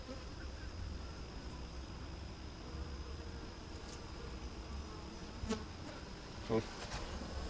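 Steady low buzzing of many honeybees in a hive, continuous and fairly quiet, with a few brief closer buzzes near the end.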